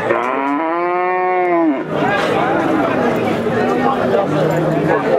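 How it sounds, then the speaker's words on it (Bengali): A cow lets out a long, loud mooing call at the Hazratpur cattle market, then the busy crowd noise and chatter of the livestock haat take over, with a second lower moo near the end. "একটা গরু দেখছেন"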